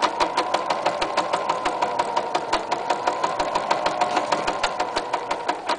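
A sewing machine runs steadily as it stitches two sides of an apron together, its fast, even needle rhythm ticking continuously at close range without pause.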